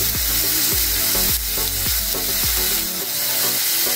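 Sambar chili powder and salt sautéing in a pan give a loud, continuous sizzle and fry, broken by repeated scraping stirs of a spoon, with no voices.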